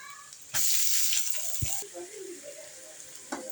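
Chopped onions dropped into hot oil already frying fennel, cinnamon, cloves, ginger and garlic for vada curry, bursting into a loud sudden sizzle that eases into a softer steady crackle.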